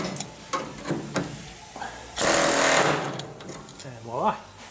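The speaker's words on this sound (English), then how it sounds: "And I come hit it with the chisel." Chisel struck through the sheet-metal quarter panel of a 1977 Camaro Z28, a short loud burst of metallic hammering cutting in mid-clip, with someone talking before and after it.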